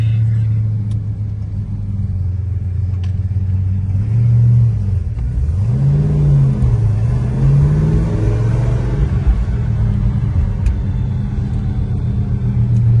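A 1970 Mercury Cyclone Spoiler 429 Cobra Jet Ram Air V8 engine rumbles loudly and continuously, its pitch rising and falling as it revs while driving, heard from close by.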